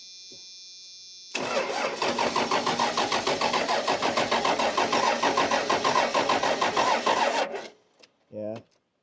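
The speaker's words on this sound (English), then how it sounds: "Are you cranking it?" A Cummins diesel truck engine, left sitting for years with missing parts, cranks over in a steady rapid chugging rhythm for about six seconds, then cuts off, followed by a brief quiet sound.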